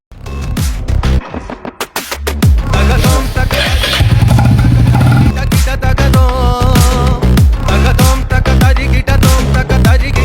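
A motorcycle in a village yard starts up after a brief pause and pulls away, its loud engine sputtering, then rumbling with uneven throttle bursts as it moves off close by.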